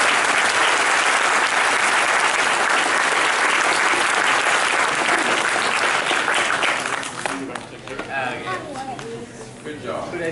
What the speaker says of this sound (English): Let's give a round of applause for me